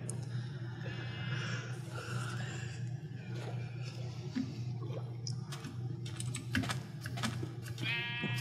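Sheep in the Minecraft video game bleat a few times, short nasal cries at the start and again near the end, over soft keyboard clatter and background game ambience.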